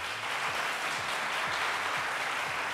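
A TV game-show audience applauds to vote a point to one team, with steady dense clapping filling the whole stretch at a loud, even level and no talk over it.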